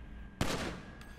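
A single sharp gunshot cracks out at a shooting range in GTA 5, followed by a short decaying echo and a faint second report, with no talk.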